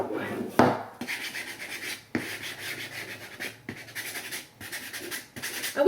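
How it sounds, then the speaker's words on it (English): A stiff brush scrubs paint onto a Christmas tree canvas in repeated short rasping strokes with brief pauses between bursts, close and fairly quiet. "do the edges on the sides because we need more scrubbing"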